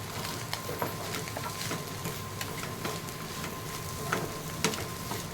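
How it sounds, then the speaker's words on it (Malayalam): Chopped cabbage and carrot with egg sizzle and crackle in a hot pan while being sautéed for egg masala Maggi noodles. The frying hiss stays steady and close, broken by light scraping and stirring clicks, and no one talks. "അതിലേക്കിട്ട് ജസ്റ്റ് വഴറ്റിയെടുക്കണം"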